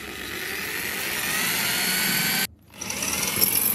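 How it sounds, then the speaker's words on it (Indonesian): Power drill boring a hole into a wall for mounting a pipe, a high steady whine that builds, cuts out abruptly, then spins back up. "Saya bor dulu ya."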